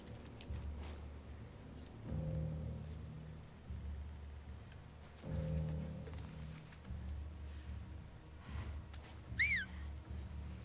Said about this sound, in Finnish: Kuka viheltele tässä, saatana?